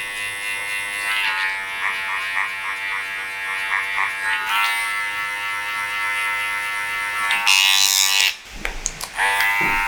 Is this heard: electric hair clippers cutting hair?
yes